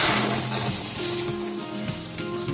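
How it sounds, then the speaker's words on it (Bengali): Hot milk poured into semolina and flour frying in a pan for a pitha, giving a steady loud sizzle and hiss with soft stirring and clinks underneath, close by. "দুধটা এর মধ্যে আমি ঢেলে দেব"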